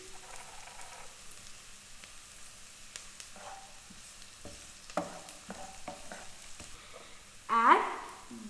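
Curry leaves hitting hot oil with onions in a pan for idli upma, a quiet background sizzle, then light stirring clatter and a sharp burst of spattering frying near the end.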